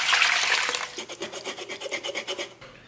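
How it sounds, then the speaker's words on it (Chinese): A small knife scrapes over the skin of a charred pig head, first a broad hissing rasp, then a rapid run of rhythmic short scraping strokes, close and clear with no talk. "咱们拿小刀给它刮洗干净。"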